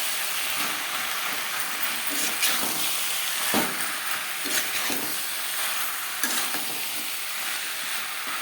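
Potatoes in a pan being stirred with chilli powder, turmeric and salt while cooking for a pangas fish curry: a steady frying sizzle with scraping spoon strokes at irregular intervals, fairly close.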